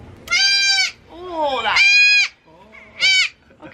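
A miniature goat bleats in three loud, wavering calls near the microphone, with someone speaking briefly between them.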